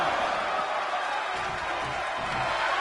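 Steady roaring arena crowd from the WWE 2K22 wrestling video game, a dense continuous wash of cheering that holds at a constant loud level throughout without breaks.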